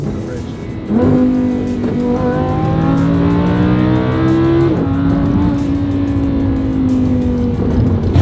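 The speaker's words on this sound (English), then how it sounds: "driving the world's highest mileage Huracan" A high-mileage Lamborghini Huracan roars loudly as it accelerates, its engine pitch climbing through rising gear pulls with a sharp shift in the middle, close and dominant throughout.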